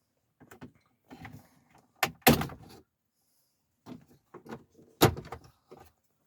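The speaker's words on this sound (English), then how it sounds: "Using your prying tool, just gently clip them out of their clips one at a time" Plastic radio trim on a Chevrolet Trailblazer dash being pried out of its retaining clips with a prying tool, giving a series of sharp snaps and clicks, with two loud pops standing out among quieter rattles, close up and with no talk.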